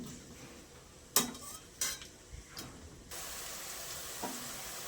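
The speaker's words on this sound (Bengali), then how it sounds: "তেল দিলাম, পেঁয়াজ কুচি দিলাম, এটা এই পেঁয়াজ কুচির বেরেস্তা হবে।" Chopped onions fry in oil in a pan while a utensil stirs, giving a few sharp clanks over a continuous soft sizzle that brightens near the end.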